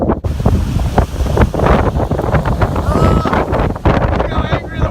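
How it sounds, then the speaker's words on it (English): Strong gusting wind in Simi Valley roars and buffets the microphone in a loud, continuous rush with sharp surges, while a person talks over it. "Look how angry the wind is."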